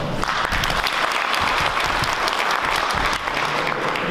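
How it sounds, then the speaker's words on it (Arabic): Audience at the general assembly of the Al Falah development association breaks into sustained, dense applause, loud and unbroken throughout with a faint crowd murmur beneath. "عجبكم الحال صفقوا عليه"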